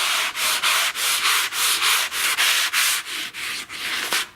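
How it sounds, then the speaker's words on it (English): Foam sanding block rubbing over oil-based primer on a wooden restaurant-style booth, a loud, steady series of about a dozen rhythmic back-and-forth strokes with brief pauses between them, close up with no voices. "I use a foam sanding block and sand in between coats."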